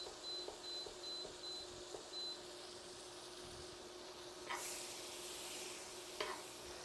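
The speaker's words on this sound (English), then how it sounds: "a generous pat of butter, put it in my pan over here" A generous pat of butter melting and sizzling in a pan over lowered heat, a soft, steady crackle with a few light taps and short beeps early on, then a slightly louder hiss near the end.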